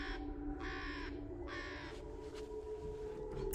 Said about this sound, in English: and yet there's a bird